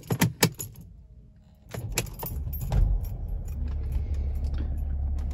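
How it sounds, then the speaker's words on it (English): Keys jangle close by for a moment, then a Mercedes ML350 W164 is started and settles into a low steady idle rumble that continues to the end. "All right, so let's start the vehicle."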